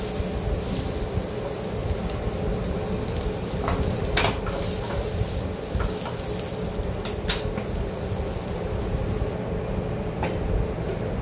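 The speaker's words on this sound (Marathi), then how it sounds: "आणि कांदा भाजायला टाकते." Onion roasts in a pan for a chicken rassa, giving a steady close sizzle under a low rumbling background, with scattered clicks and scrapes of stirring throughout.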